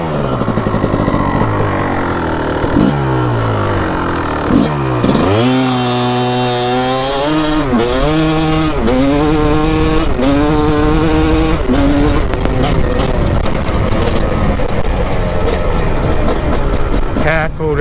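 A 2004 Kawasaki KX 250 two-stroke dirt bike revving hard and accelerating close by, its engine pitch rising in repeated sweeps through the gears with a raspy, loud, continuous howl.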